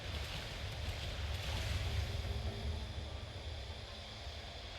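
A waterfall in the video game Keeper rushes as a steady, faint wash of broadband noise with a low rumble, constant throughout with no voices.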